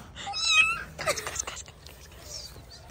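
A domestic cat meows twice in close succession near the listener, a clear rising cry followed by a shorter one, then quiet room sound with faint background noise.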